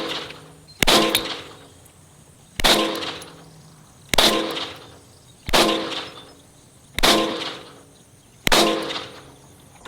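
A Glock 17 pistol fitted with an Agency compensator fires six sharp, loud shots, evenly spaced about a second and a half apart, each ringing briefly before the next.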